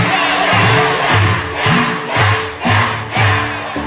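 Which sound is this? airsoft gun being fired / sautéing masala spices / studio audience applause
studio audience applause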